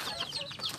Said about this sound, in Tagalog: Yan mga manok ko lahat yan.